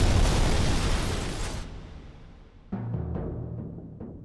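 A Diwali rocket firework explodes in a movie scene: a loud booming blast that rumbles away, followed by a second burst with crackling pops, and no talk over it.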